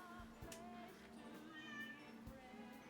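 A pet cat meows indoors near a door or window, a few short plaintive calls rising over a steady background hum, fairly close but not loud.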